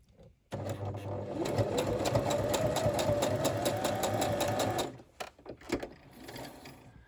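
Sewing machine stitching fabric for a junk journal tag topper: a fast, even mechanical whir with rapid needle ticks, running for about four seconds after a quiet start, then stopping, followed by a few handling clicks and rustles.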